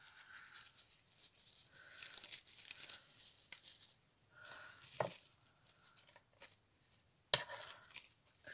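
Paper is cut for a handmade shabby winter card, with quiet snipping and crinkling in irregular bursts, a couple of sharper clicks, soft and close with no talk.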